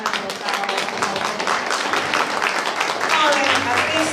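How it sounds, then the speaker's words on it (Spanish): An audience at a women writers' book presentation applauds artist Verónica Torocawa, moderate steady clapping mixed with voices talking over it. "Un aplauso para Verónica Torocawa."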